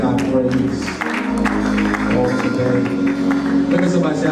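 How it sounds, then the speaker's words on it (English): A church congregation claps at a New Year's Day Sunday service, with rhythmic hand clapping from the crowd under a sustained organ or keyboard tone and a voice speaking over it. "Come on, clap your hands and give God praise."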